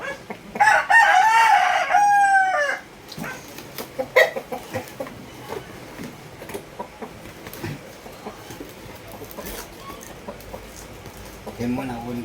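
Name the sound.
fighting rooster crowing and clucking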